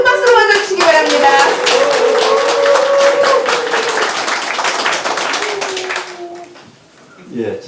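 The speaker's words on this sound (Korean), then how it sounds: "여러분 큰 박수로 맞아주시기 바랍니다." A room of attendees at a press conference, where a candidate for Gyeongsangbuk-do superintendent of education is announcing a run, claps loudly to welcome him. A voice talks over the clapping, which fades after about six seconds.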